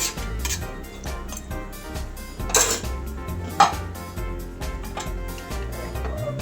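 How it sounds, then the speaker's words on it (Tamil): A metal spoon scrapes and clinks against a pot of goat-head curry with added water in a steady, repeated stirring rhythm, close by, with occasional sharper knocks. "நல்லா கிளறி விட்டுட்டு"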